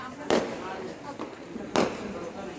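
Two sharp firecracker bangs about a second and a half apart during Karva Chauth celebrations, loud and close, over a steady murmur of background voices.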